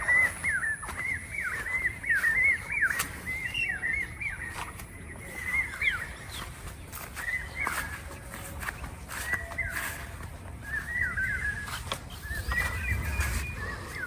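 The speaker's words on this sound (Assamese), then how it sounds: "কিমান চৰাই মাত আছে" On a farm, repeated chirping bird calls sound in the background throughout, over low rustling and faint movement noises.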